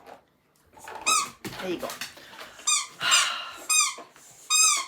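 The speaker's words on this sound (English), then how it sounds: "she does love that squeaky ball" A dog's squeaky rubber ball toy squeaks in several sharp, repeated bursts indoors in a kitchen, loud and close, with a person speaking briefly between squeaks.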